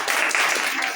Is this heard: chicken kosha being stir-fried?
no